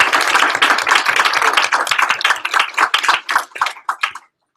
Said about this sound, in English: So let's give a big round of applause for that.